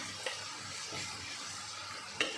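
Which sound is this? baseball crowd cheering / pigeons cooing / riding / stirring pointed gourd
stirring pointed gourd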